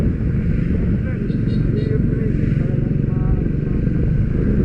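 Triumph Speed 400 motorcycle with a dual overhead cam, four-valve engine, heard from the rider's seat as a loud, steady engine drone with wind rumble throughout, a voice briefly audible over it.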